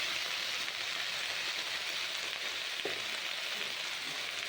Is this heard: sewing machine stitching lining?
no